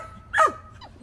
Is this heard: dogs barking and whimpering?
yes